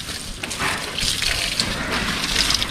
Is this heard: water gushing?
yes